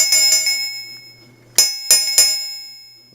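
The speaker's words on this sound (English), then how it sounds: "Here we have a larger bell" A larger bell with a weathered patina rings close by, struck once then several quick times in succession, each strike bright and metallic with a shimmering ring that slowly decays.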